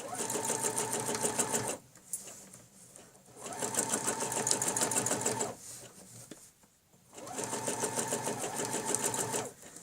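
A sewing machine stitches a scroll line down the centre of small flower petals in rapid, steady runs, three bursts of fast mechanical stitching separated by brief slower pauses, close and fairly quiet.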